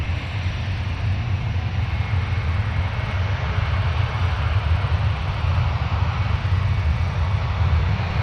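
A Delta airliner takes off from runway 12 right at Minneapolis–Saint Paul, bound for San Diego, with a loud, steady jet-engine roar that holds evenly throughout and has no voices over it.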